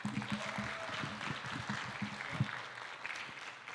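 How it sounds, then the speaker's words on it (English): Audience clapping at the close of a high-level opening session of a governance and digital transformation symposium, a steady crowd applause filling the hall for about four seconds without talk. "Let us thank Mr. Ban Ki-moon for the very stimulating words with a big round of applause."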